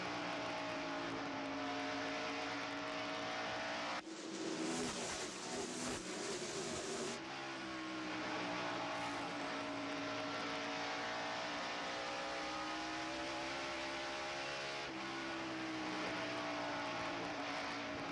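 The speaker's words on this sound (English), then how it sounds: "we go back to racing, and Jeff Bodine is up front" NASCAR stock cars roar around the track at the 1994 Food City 500, a loud, continuous engine drone with shifting pitch as cars pass, and a brief dip and surge partway through.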